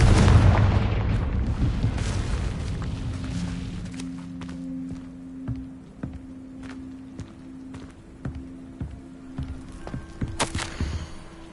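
A Confringo explosive spell goes off in the game Hogwarts Legacy: a loud burst that decays into rumbling, followed by scattered footsteps and small impacts.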